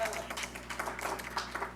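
An audience at a commencement ceremony claps in a brief burst of scattered hand claps, fairly close and moderately loud, over a low steady hum of the hall.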